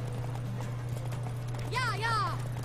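Horse hooves clip-clop steadily while riding in the video game The Witcher 3, over a constant low hum, with a high whinny-like sweep near the end.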